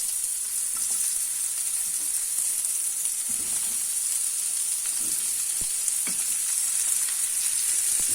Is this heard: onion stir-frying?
yes